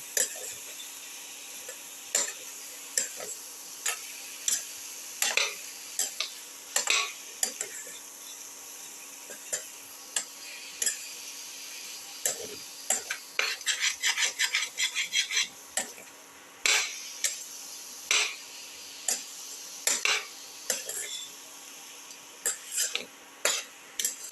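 Chili powder and salt are mixed into a chicken and potato casserole, with a spoon clinking and scraping against the pot in an irregular rhythm over a low background hiss and a faint cough.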